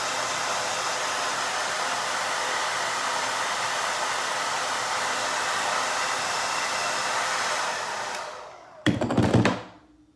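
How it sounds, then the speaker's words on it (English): A blow dryer roars steadily at close range for about eight seconds, then cuts off, followed by a brief thump and a short burst of noise. "You're also going to need a blow dryer. And blow dry it down."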